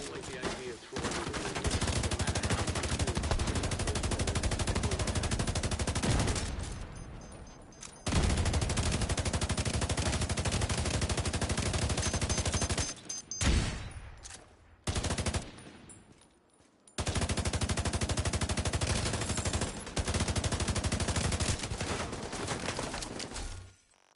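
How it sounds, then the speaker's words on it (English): Loud bursts of rapid automatic gunfire in a video game, several long volleys separated by short pauses, with a few sharper single shots between them. "Hostile radio intercepted. I hear gunfire."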